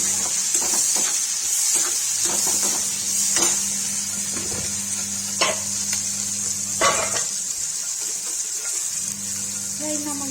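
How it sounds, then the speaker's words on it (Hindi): Onions frying in oil for a spicy brinjal curry, a close, steady sizzle with repeated spoon-stirring scrapes and a low hum underneath; no clear speech. "गाइस प्याज डालेंगे"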